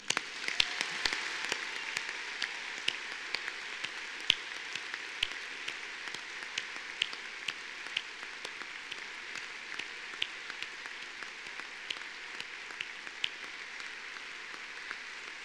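A large audience at a university graduation ceremony claps steadily and fairly softly for a long stretch, an even patter of many hands with no voices over it.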